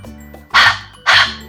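A dog barks twice, two loud, sharp barks close by, separated by a short pause over a quiet background hum.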